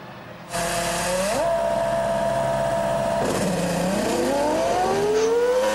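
A Formula 1 car entering the pits in the F1 2005 video game, its engine whining steadily at a held pitch, then dropping and climbing again as it shifts, loud and close.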